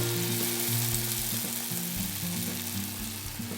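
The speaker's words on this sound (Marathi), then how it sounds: "हे मीडियम आचेवर आपल्याला व्यवस्थित तळून घ्यायचे आहेत" Urad dal vadas fry in hot oil over medium heat, giving a steady, close, continuous sizzle and bubbling with no talk over it.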